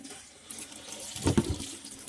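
Water gushes under pressure from the tank of an RO 75 GPD water filter after the carbon stage, a brief rushing burst near the middle of a quiet stretch with light background hiss.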